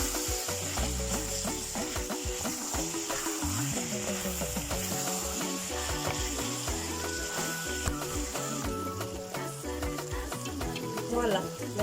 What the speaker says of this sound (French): maintenant je vais laisser cuire la sauce